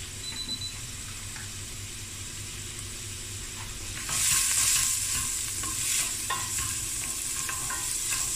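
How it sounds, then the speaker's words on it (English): Frozen leftover rice frying in a pan on medium heat, a steady close hiss and crackle that swells louder about halfway through, with faint stirring noises. "I'm just going to let this fry on a medium heat for about 8 to 10 minutes."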